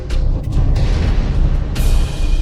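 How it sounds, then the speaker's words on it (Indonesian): A single sharp gunshot cracks out loud and close amid a dramatic mafia action scene, with a booming blast layered over dense rumbling background sound. "Mari kita selesaikan ini dengan satu tembakan"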